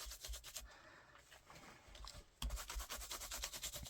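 Close, quiet rubbing strokes of a burnishing tool over an embossed paper card, a repeated scratchy back-and-forth rhythm with a brief pause before the rubbing resumes more firmly.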